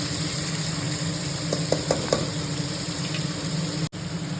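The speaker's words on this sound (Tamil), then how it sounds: "இந்த வெங்காயம் நல்லா கோல்டன் ப்ரௌனாக ஆகணும். ஒரு 10 மினிட்ஸ் வதங்கணும்." Onions for mutton biryani sauté in a pan with a steady, loud frying hiss, broken by a few soft scrapes of stirring partway through. No one speaks.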